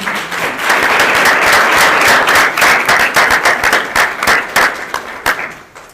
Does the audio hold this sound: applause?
yes